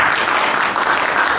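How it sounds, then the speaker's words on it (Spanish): Audience applause welcoming a doctor to the podium, a short burst of dense, even clapping at moderate volume with no voices. "Muy bien, recibámoslo con un fuerte aplauso."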